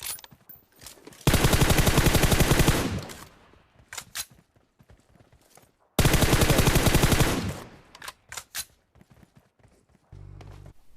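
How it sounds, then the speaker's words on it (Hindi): Two long bursts of rapid automatic gunfire from PUBG Mobile on the Karakin map, each about a second and a half of loud, dense fire, with scattered single shots and game sounds between them. "मैं गोली चलाता हूँ, कार पे जाके गोली लगती है"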